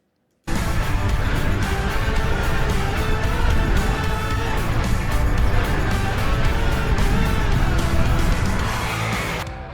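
A Suzuki DRZ400 dual-sport motorcycle rides alongside a newer bike, a DRZ4S, with a loud, steady engine drone and wind roar that holds unbroken for the whole stretch. No one talks.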